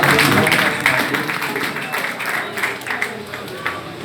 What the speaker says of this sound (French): l'église applaudit pour la dernière fois. Applaudit.